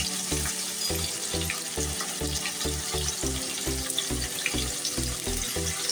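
Dried red chillies and curry leaves fry in hot oil for lemon rice: a steady, bright sizzle and crackle runs throughout over a faint rhythmic beat in the background, with no talking.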